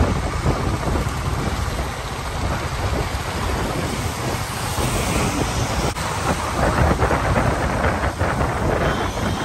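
Heavy unseasonal January rain pours down in Khed near Pune in a dense, continuous roar, with a low rumble of thunder underneath and no voices.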